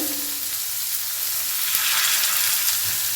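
Grated cauliflower sizzling in a kadai over low heat, a steady close frying hiss with a brief clank of utensils midway, no talking.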